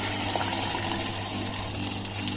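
Tamarind water poured into a traditional village-style Tamil fish curry (meen kuzhambu), a short continuous gushing pour that is fairly loud and close, with no speech.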